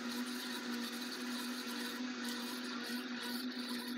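A blender whirs with a steady, even hum, running continuously with no pauses or changes in speed.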